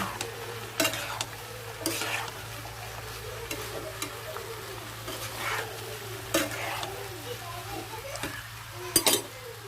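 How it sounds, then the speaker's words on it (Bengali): Mixed vegetable bhaji of cabbage, cauliflower, beans, potato and eggplant sizzles in a pan while being stirred, with a steady frying hiss, periodic scraping strokes and a low background hum. "ভালো করে নেড়ে নেব।"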